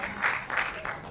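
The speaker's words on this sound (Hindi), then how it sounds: "एक बार जोरदार तालियों से पूर्णिमा का स्वागत" Audience clapping to welcome a young contestant at a state-level Sanskrit song competition, a brief burst of applause in short swells.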